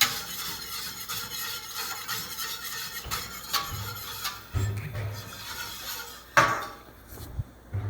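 A utensil stirs a jelly mixture in a pot, giving soft scraping and clinking against the cookware, with a few louder knocks near the end.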